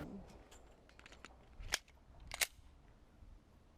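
Two sharp, fairly distant cracks from a 9mm Gen 3 Glock pistol at a shooting range, spaced under a second apart against a quiet background.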